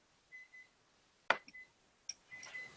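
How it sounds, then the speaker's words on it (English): A kitchen timer goes off while pretzels bake. It gives a few faint, short, high beeps in separate bursts, mixed with soft clicks in a quiet room. "I hear the timer."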